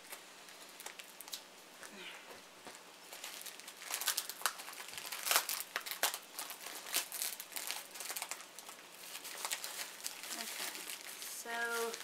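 Crinkling plastic and tearing tape as a package is unwrapped, close and continuous with bursts of rustling; a voice speaks briefly.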